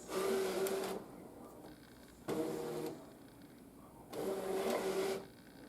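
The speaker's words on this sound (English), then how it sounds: "here we are at the machine. I'm going to load my mat in there. This is the load button. Let that load." A Brother ScanNCut cutting machine draws in its cutting mat, its motor whirring in three separate bursts with short pauses between them, close and fairly quiet.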